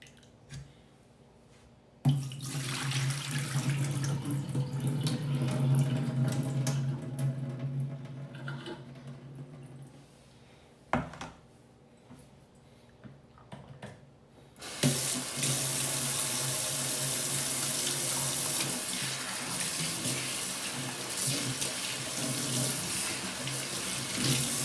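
Water runs from a kitchen tap into the sink while raw chicken is washed, a steady splashing stream that changes with handling and squishing, briefly stops, then returns with a brighter, fuller gush.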